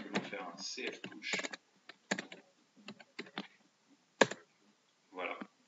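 A cf push command is typed on a computer keyboard as quick bursts of close key clicks with short pauses between them, in an otherwise quiet room.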